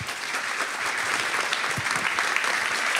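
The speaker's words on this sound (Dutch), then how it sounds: "Een hartelijk applaus." An audience at an Amsterdam commemoration event claps in sustained, dense applause that stays close and even throughout.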